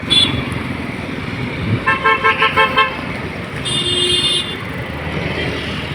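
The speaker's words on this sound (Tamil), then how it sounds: "ஆவடி ரெடிஹில்ஸ் பஸ் செல்கின்றது" Route 62 Avadi–Redhills bus passing along a main road in Shanmugapuram, Ambattur, amid steady traffic, with a rapid burst of horn toots midway and a longer horn blast after, loud and close.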